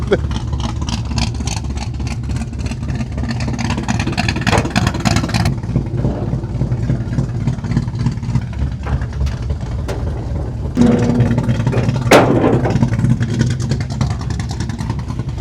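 A hot rod squarebody truck engine runs loudly and continuously, rumbling with a few rising revs, while people talk faintly in the background.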